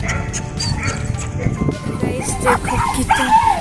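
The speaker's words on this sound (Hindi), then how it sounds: "देखो डॉगीज भौंक रहे हैं वहाँ पे" Dogs barking in short bursts somewhat off in the distance at a dog cafe, mixed with people talking nearby and general commotion.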